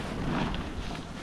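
A strong wind gust buffets the microphone on the Stagecoach Run at Heavenly ski resort, a steady, loud broadband roar that fills the whole moment without letup.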